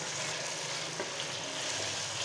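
Spices sizzling and frying in a pan with softened tomatoes for kachnar chicken, a steady close, dense crackle with a faint stirring scrape partway through, no voices.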